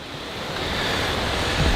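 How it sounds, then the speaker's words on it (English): Steady, loud wind rushes through backyard trees without a break, a broad roaring gust with low buffeting rumble at the end. "These trees that are really bending in the wind"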